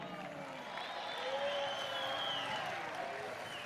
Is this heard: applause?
yes